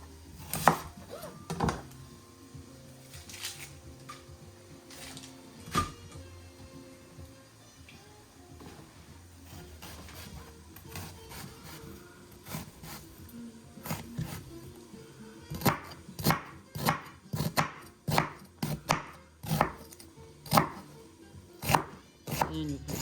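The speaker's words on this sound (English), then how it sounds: "I'm gonna cut up a nice large onion" A large onion chopped with a knife on a board, a run of sharp close knocks that turns rapid and rhythmic toward the end, with talk and other kitchen sounds in the first half.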